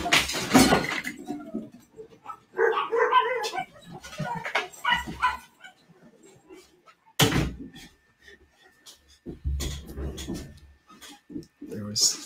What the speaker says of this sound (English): My dog is getting antsy for some reason